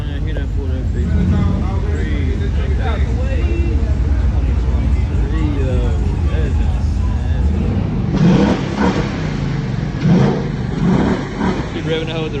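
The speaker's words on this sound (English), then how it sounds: "Keep revving" A car's engine rumbles and revs at a late-night car meet, loud and close with surging pulls, while a crowd of people talks and shouts over it.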